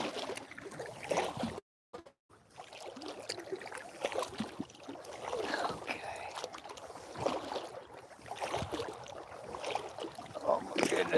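A kayak paddled on a lake at sunrise, soft splashing strokes and water lapping against the hull, close and fairly quiet, with a brief pause early on and light wind in the background.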